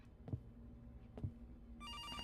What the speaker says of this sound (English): Can somebody answer that goddamn phone?